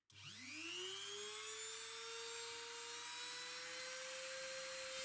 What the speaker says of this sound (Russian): включаю шпиндель